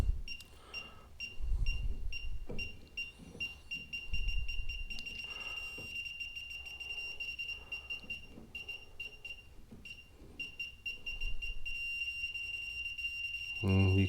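A Klein Tools circuit breaker locator being scanned across a breaker box emits steady high electronic beeping that runs throughout, with handling bumps and low clatter underneath and a louder burst near the end.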